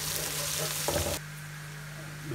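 Onions soften in a pan for a macaroni masala with a loud hiss and sizzle, then a brief burst of stirring, before the frying cuts off abruptly into near quiet.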